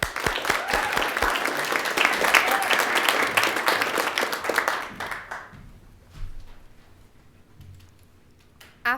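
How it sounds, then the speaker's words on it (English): Audience applause for a high school student reciting at a state poetry recitation contest, dense and loud clapping sustained for about five seconds before dying away to a quiet hall with a few scattered sounds. "Please another round of applause for Morgan Blackgoat,"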